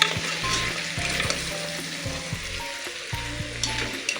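Mutton paya with a spoonful of turmeric being stirred in a hot pan, giving a steady loud sizzle with repeated scraping strokes of the spoon throughout, close and without talk.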